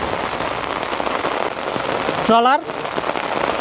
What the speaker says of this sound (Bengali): প্রচণ্ড পরিমাণের বৃষ্টি হচ্ছে